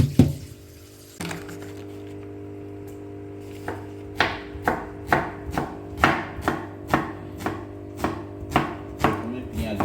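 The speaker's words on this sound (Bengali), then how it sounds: "প্রথমে পেঁয়াজগুলোকে সরু সরু করে কেটে নিলাম।" A knife thinly slices onions on a cutting board: about a dozen crisp, evenly spaced chops, close and clear over a low steady hum, with no talking.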